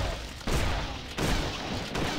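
Shotgun blasts in the action RPG Torchlight 2, three loud booming shots spaced roughly evenly apart, each a sharp broadband burst trailing into noisy game combat.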